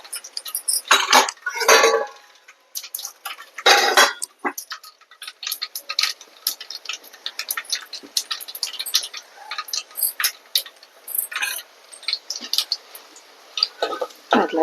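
Red chillies and urad dal frying in hot oil in a home kitchen make soft crackling and sizzling pops, with scattered clinks of utensils against the pan; someone speaks briefly in between.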